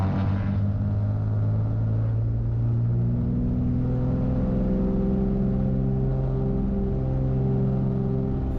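Twin Cessna engines roaring at full power during a takeoff roll, a loud steady drone with strong low harmonics that holds throughout, close and continuous with no talk.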